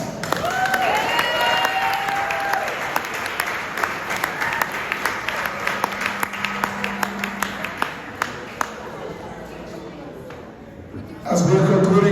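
Applause at a school sports banquet, opening with voices and cheers, then settling into scattered, distinct claps that thin out before a loud voice cuts in at the end.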